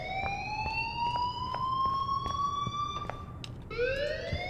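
An in-game fire alarm in Life Is Strange rings as a steady, loud electronic tone with a slowly rising pitch, briefly dropping and restarting near the end, with faint background noise underneath.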